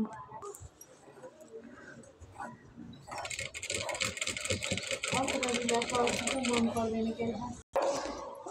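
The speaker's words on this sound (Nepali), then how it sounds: "अब यस्तै गरी यतापट्टिबाट यसलाई यस्तै गरी यहाँ छेउबाट सिलाउने" A sewing machine stitches a belted blouse, running in a fast, steady mechanical rattle for several seconds after a quieter start, then stopping briefly and restarting, with someone talking over it.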